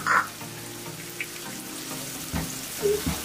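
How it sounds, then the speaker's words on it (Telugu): Chillies tossed into a pan of frying onions for a prawn curry, a close continuous sizzle with a few bright spatters and the scrape of stirring, no voices. "అలానే చిల్లీ కూడా వేసుకుందామండి."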